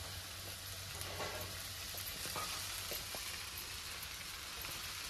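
Soaked poha stirred into potatoes frying in a pan, a continuous close sizzle with scraping, clicking stir strokes mixed through it.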